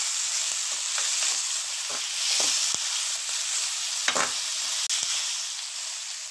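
Steady sizzling and frying of tomatoes in a pan, a constant bright hiss with occasional soft stirring clicks and scrapes, close up, no voices.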